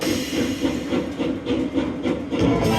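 Train sound effect from a slot machine game, a rhythmic chugging with hissy steam-like bursts repeating in a steady pulse, loud and alone without voices.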